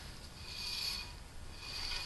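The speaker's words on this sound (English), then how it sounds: "What you hear there is the inner brake shoes rubbing the inside of the drum." A scraping, rasping rub of inner brake shoes dragging inside the drum on a Volkswagen A3-platform wheel, two drawn-out swells of grinding friction, close and fairly quiet.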